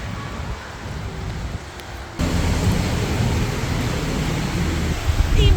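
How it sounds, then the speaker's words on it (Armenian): Heavy rain in a park during a thunderstorm, a dense steady hiss that jumps louder partway through, with low rumbling underneath and no voices. "անձրևը էնենց հա ուժեղացել"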